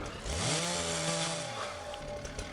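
A chainsaw in the video game Into the Dead 2 revs up with a rising whine, then holds a loud, buzzing drone close by, alone without speech.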